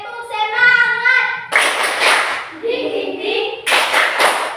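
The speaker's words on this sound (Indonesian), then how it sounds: "Tepuk semangat." A group of schoolchildren performs a rhythmic spirit clap in a classroom, loud and close, with bursts of sharp patterned clapping alternating with voices chanting and calling out.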